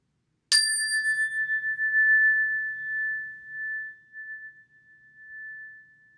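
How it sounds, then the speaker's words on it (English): A chime struck once during a mindful listening exercise gives a bright, clear strike, then one pure tone rings on alone and fades very slowly over several seconds in a quiet room. "you're going to concentrate on the sound of the chime"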